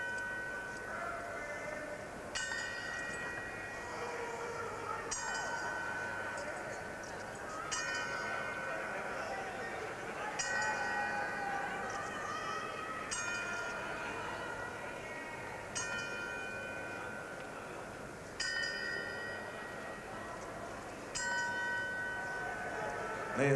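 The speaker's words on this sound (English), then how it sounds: "they're tolling the 10-second bell." A boxing ring bell tolls a ten count tribute at a professional fight, ringing in slow, evenly spaced clangs over a steady roar of arena crowd noise.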